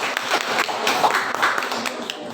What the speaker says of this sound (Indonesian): Berikan tepuk tangan sekali lagi untuk paslon nomor urut